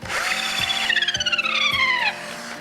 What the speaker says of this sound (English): this drill follows it perfectly, and you can actually